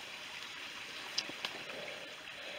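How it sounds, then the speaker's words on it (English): A stream trickles down through Burrington Coombe in the Mendip Hills, a soft, steady wash of running water heard faintly from a distance, with two brief sharp knocks partway through. "the stream's down there, trickling down through, down into Burrington, down into the Coombe"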